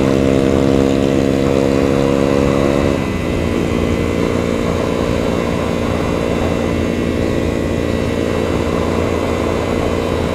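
A Kawasaki Ninja 250FI motorcycle engine drones steadily and loudly while riding, its pitch shifting down after about three seconds as the ride continues with constant wind and road noise.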